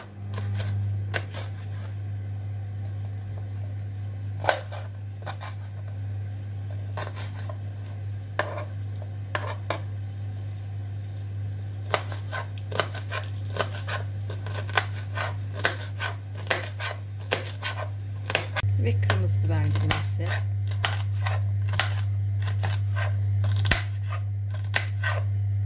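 A knife chops peppers on a board in a home kitchen, giving uneven clusters of light taps and cuts over a constant low hum from the stove.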